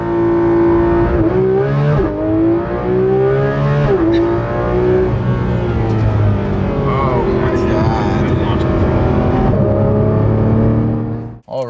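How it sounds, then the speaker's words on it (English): A Porsche 911 GT3 RS launching hard under launch control, its engine note rising through several sharp upshifts in a loud, continuous close-up roar from inside the car, with brief gear-change dips before the sound cuts off abruptly at the end. "You just hold left foot brake, foot to the floor, hold it down, release the brake. It'll say launch control."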